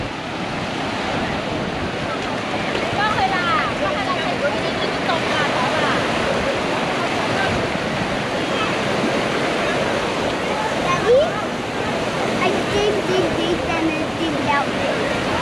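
Surf breaks on the beach at Double Moon Bay in Huizhou, China, a loud continuous wash of waves with wind across the microphone and voices faintly mixed in.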